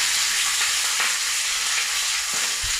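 Curry leaves dropped into hot oil with frying shallots and chillies for a Kerala pulissery, giving a loud, steady, close sizzle with faint stirring clicks throughout.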